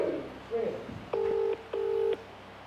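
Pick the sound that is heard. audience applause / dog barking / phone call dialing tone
phone call dialing tone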